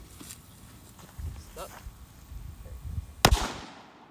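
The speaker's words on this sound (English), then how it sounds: "It's a good sized cracker there, huh?" A Tiger Head 4 inch firecracker bursts with one sharp, loud bang near the end, followed by a short fading tail, after quiet outdoor rustling and footsteps.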